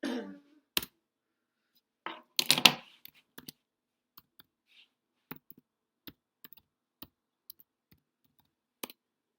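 Sparse keystrokes on a computer keyboard, scattered clicks and short bursts of typing at irregular intervals, close and fairly quiet, with a brief cough or throat noise near the start.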